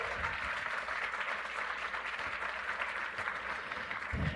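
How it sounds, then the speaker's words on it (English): Audience applause at a groundbreaking ceremony for a fusion research and manufacturing campus, a steady wash of clapping from a crowd that holds even and fairly loud throughout. "You can clap, you can clap."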